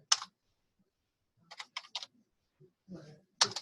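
Sharp computer keyboard keystrokes and mouse clicks come in a few quick bursts with short pauses between them. They sound close and clear, over an otherwise quiet background, with no talking.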